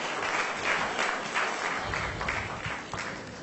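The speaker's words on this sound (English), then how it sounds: "Give them a big round of applause" Sustained applause from an awards ceremony audience, dense and steady throughout, with no break or voices standing out.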